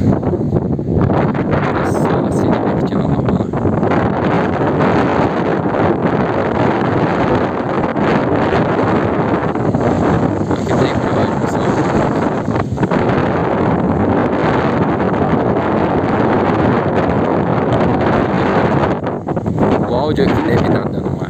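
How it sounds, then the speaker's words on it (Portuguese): Heavy wind buffets the microphone in a constant loud rumble at the Itupararanga reservoir, with gusty rustling throughout and no pauses. "tá ventando muito, pessoal. Ventando muito."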